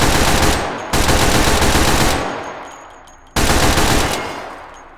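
Three long bursts of automatic gunfire from a TF2 weapon in the VR shooter H3VR, each loud rapid volley starting abruptly and tapering off, with short gaps between them and no talking.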